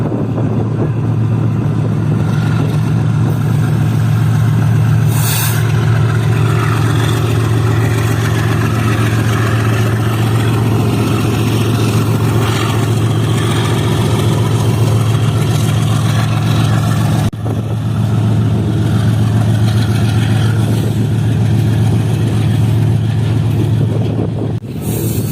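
A long goods train hauled by a GU40 diesel locomotive passing at Dabheji: a loud, steady low engine rumble holding for about 25 seconds, close by, with a brief break in the middle and no clear talk.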